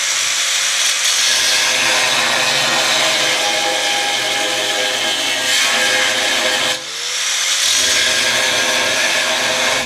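Power saw cutting an angle through a steel rocker slider on a Jeep Cherokee XJ, a loud, close, continuous grinding whine that briefly dips near the end before the cut resumes.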